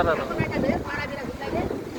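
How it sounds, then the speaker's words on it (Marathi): Strong, dust-laden wind from a sudden storm buffets the microphone in gusts while someone speaks over it close by. "वारा बघा कसला सुटला आता"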